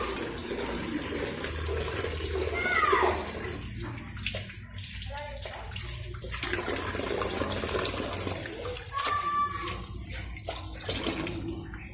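Water poured over something in a washroom, a broad running, splashing wash heard throughout, with people talking and background noise mixed in.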